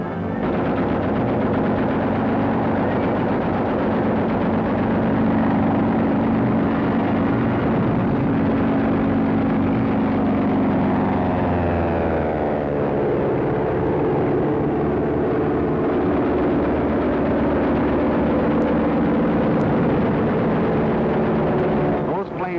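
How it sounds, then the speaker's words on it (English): Luftwaffe military aircraft in flight over Poland during the 1943 wartime invasion, a loud sustained engine drone with a rising and falling pass, plus rattling gunfire-like bursts, heard under continuous narration. "the planes of the Luftwaffe were over Poland, wiping out the Polish Air Force"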